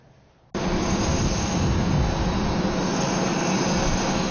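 A jet airplane carrying the Turkish prime minister roars steadily and loudly at Andrews military airbase near Washington at night, a constant engine rush starting abruptly after a brief quieter moment.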